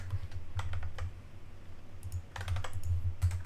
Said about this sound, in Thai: อันนี้ก็คือกด Ctrl C กด Shift แล้วก็จิ้มเมาส์แล้วก็ Ctrl V ค่ะ